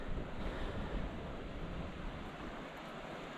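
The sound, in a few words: river flowing beneath the campsite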